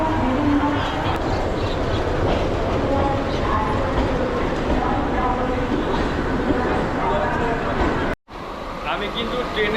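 Steady loud rumble and rattle of a Howrah to Belur Math local train running, heard from inside a nearly empty carriage, continuous with a brief dropout near the end.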